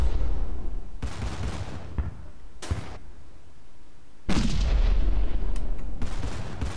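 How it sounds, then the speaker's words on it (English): Guns and missiles fire in the space strategy game StarDrive 2, heard as several loud booming blasts with long rumbling tails, spaced about a second or more apart over a constant low background. "those guns miss all the time, but the missiles never do."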